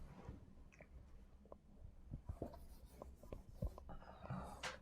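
Scratchy marker or chalk strokes on a board as an ethics lesson's notes are written out, a run of short uneven taps and scrapes, close and quiet over a low background rumble.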